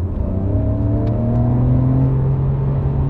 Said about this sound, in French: Moteur en porte-à-faux arrière, 6 cylindres à plat